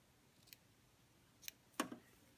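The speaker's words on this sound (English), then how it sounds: "Now, what I'll do is clip this corner" Scissors snip the fabric corner of a tie during sewing: a few quiet, sharp clicks, with the firmest cut near the end, set against a hushed room.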